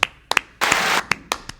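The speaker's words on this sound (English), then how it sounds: "huge round of applause to him" A few scattered hand claps, sharp and close, with a short burst of broader noise in the middle, a brief and sparse round of applause for someone finishing an automotive project.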